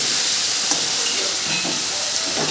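Boiled taro fries with ginger, garlic and chilli in hot oil, a steady close sizzling hiss with faint soft stirring bumps.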